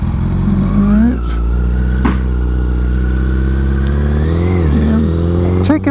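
A 2013 Honda CBR 1000RR in Repsol colors being ridden, its engine droning steadily close by with several rising revs and shifts as the rider talks over it.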